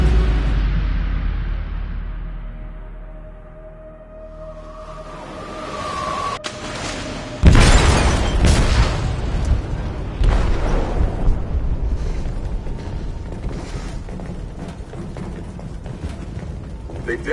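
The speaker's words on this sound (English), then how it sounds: "They detonated an explosive in the hold." A heavy explosion booms inside a ship's hold in the video game Detroit: Become Human, a sudden loud blast followed by a long rumbling, clattering aftermath with mechanical noise and scattered voices underneath.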